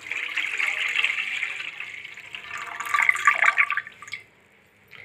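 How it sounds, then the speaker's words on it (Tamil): Water poured into a pan to boil 200 grams of macaroni pasta, a steady splashing stream for about four seconds that swells near the end and then stops. "ஒரு வானிலையில் தண்ணி ஊற்றிக்கலாம்."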